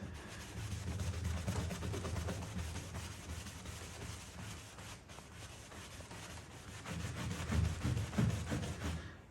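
A cloth rubs steadily across the waxed oak panel of a 17th-century Charles II coffer, a close, continuous dry swishing that grows a little louder near the end, with no voices.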